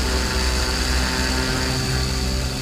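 A light aircraft's propeller engine roars steadily at full power during a soft-field takeoff from a beach, a close, loud, unbroken drone with no talk.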